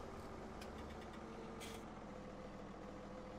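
A tractor fitted with a snow plow drives over snow in Farming Simulator 17, a steady low engine drone running throughout with a brief hiss partway through.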